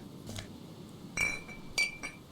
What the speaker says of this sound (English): Collect some glass bottles. Put it in your damn plastic bag.